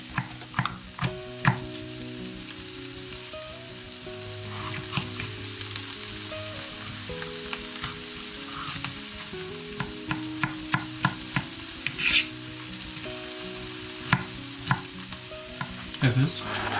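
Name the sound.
onions frying in a pan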